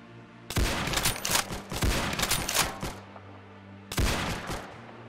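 Springfield rifle shots in a Roblox Arsenal match, heard as three loud, sharp bursts at uneven intervals, each ringing out briefly before the next, with no talk over them.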